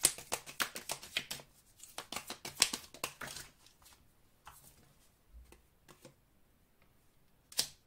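A tarot deck being shuffled and a card drawn, with a run of quick riffling card clicks and flicks at the start, a second burst near three seconds, then sparse soft taps and one last crisp card snap at the end.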